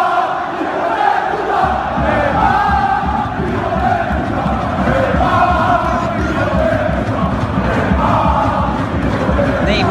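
PSG football supporters in a stadium chant insults at Neymar, a dense, loud crowd roar with sustained sung tones carrying throughout.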